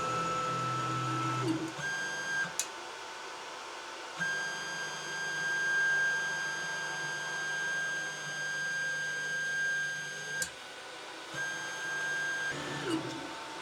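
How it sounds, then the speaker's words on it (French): A Kywoo 3D Tycoon MAX 3D printer runs with a steady cooling-fan whir, long sustained tonal whines from stepper motors, and soft mechanical shuffling, punctuated by a few short clicks and brief pauses in motion. "la machine fait un peu de bruit de ventilation et du bruit mécanique"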